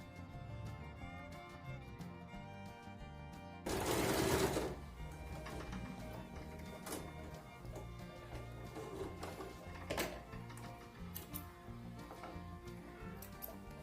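A sewing machine stitches a dress body with a steady close mechanical whir and tick, broken by a short louder fast burst of stitching near the start and a few sharp clicks later, with no voices.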